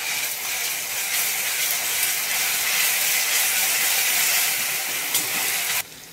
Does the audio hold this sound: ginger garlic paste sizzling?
yes